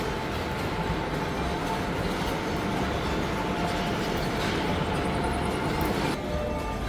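A train at a Madrid station rumbles steadily with a dense, continuous roar of wheels and rail noise, close and sustained, with a brief faint squeal near the end.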